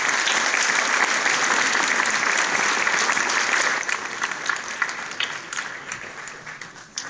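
Audience at a municipal election results announcement in Val d'Anast applauds newly elected council members, a dense, steady wash of clapping that thins and softens slightly in the final seconds.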